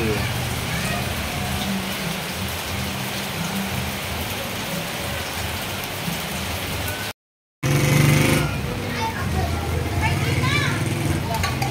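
Steady, dense rain pours down through a rainy afternoon, a continuous loud hiss that cuts out for a moment and then returns with a low rumble of passing traffic underneath.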